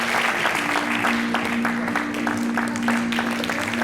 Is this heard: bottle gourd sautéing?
no